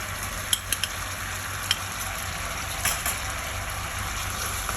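Sauce with toasted white sesame seeds sizzles and bubbles in a wok over high heat, a steady frying hiss broken by a few sharp pops and spatula scrapes as it reduces.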